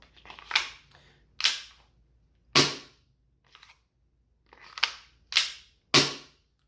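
An airsoft SIG P226 pistol fires 6mm BBs in seven sharp, close cracks at uneven intervals, each ringing out alone against a quiet background.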